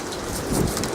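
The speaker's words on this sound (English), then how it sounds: "that's good pea-sized hail" Pea-sized hail falls during a supercell storm, a steady dense patter of stones striking surfaces close by, with a brief swell of heavier impacts in the middle.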